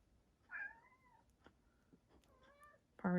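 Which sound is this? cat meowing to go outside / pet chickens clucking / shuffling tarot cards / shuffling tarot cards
cat meowing to go outside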